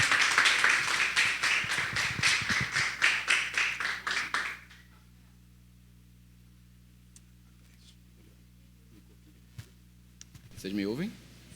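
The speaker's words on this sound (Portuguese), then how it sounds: "Uma salva de palmas para Josias" Brief clapping from a church audience welcoming a speaker, a rhythmic burst lasting about four seconds before cutting to near silence, then a faint voice at the end.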